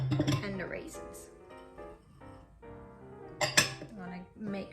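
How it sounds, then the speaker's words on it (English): A spoon clinks and scrapes against a bowl as coconut, sugar and raisins are mixed into scone dough, with irregular close clatter and a voice talking over it. "Make sure you give it a good mix so that you can mix in all of the raisins and sugar and coconut."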